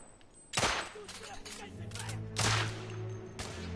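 Gunfire in The Order 1886, with two or three loud, sharp shots spaced apart amid game noise and a low rumble, and no talk over them.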